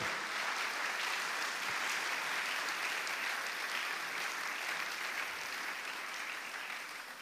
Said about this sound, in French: On peut continuer à acclamer le Seigneur pour sa parole.